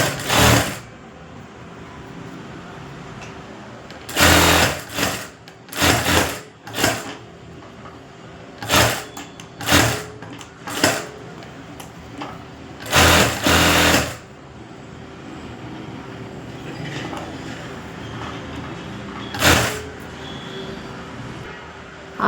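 A sewing machine stitches a puff sleeve in a beginner tailoring session. Close, loud bursts of rapid, rhythmic needle clatter come in short runs separated by quieter pauses.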